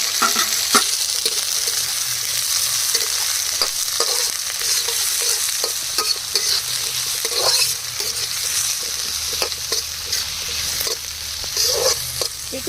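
Garlic, carrot, cabbage and capsicum stir-fried in a hot pan for a fast-food style chicken fried rice, with continuous loud sizzling and repeated scraping clinks from the stirring utensil and no talk.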